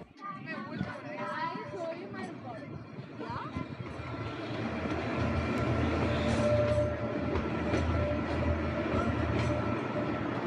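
A Kalka-Shimla railway train runs from Shimla toward Taradevi, its steady rumble and clatter growing louder midway, with wheel squeals and talk over the running noise.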